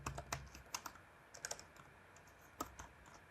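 Fingers type on a computer keyboard in short, irregular clusters of quiet clicks, fairly close, over a soft steady background hiss.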